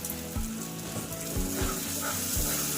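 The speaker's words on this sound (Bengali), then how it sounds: "ভালোভাবে মশলাটা কষানো আমার হয়ে এসেছে।" Spiced masala for paneer butter masala sizzles and fries steadily in a pan, a continuous close crackling hiss with a few soft rhythmic stirring knocks and no talking.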